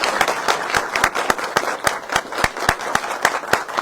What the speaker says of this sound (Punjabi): ਇੱਕ ਵਾਰ ਜ਼ੋਰਦਾਰ ਤਾੜੀਆਂ ਮਾਰੋ ਯਾਰ